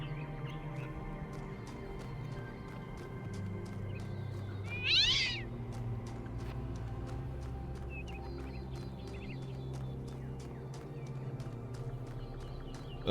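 A single short meow from a cat in The Talos Principle II, rising briefly over a steady background of ambient music and rhythmic hoof-like clopping.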